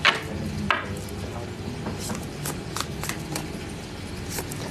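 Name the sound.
shuffling cards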